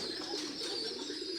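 Pigeons coo softly at a village house, a low continuous murmur of cooing set against faint background hiss, distant and quiet.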